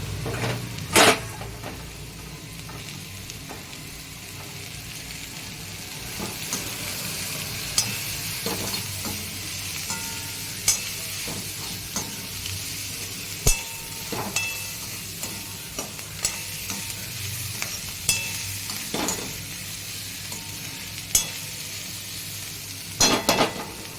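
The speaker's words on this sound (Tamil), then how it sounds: "இப்போ வந்து கேப்சிகம், பன்னீரையும் போட்டு சாட்டே பண்ணலாம்." Capsicum and paneer sautéing in a pan for vegetable Schezwan fried rice: a steady close sizzle with scattered clinks and scrapes of a spatula stirring against the pan, alone without talk.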